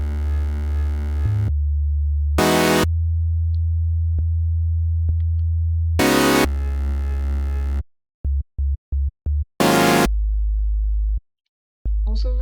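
Synthesized sub bass for a Complextro electronic track, a deep, clean sine-like tone sustained in long notes, broken by brief bright synth stabs and a stuttering run of short chopped pulses.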